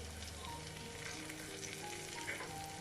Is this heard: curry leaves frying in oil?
yes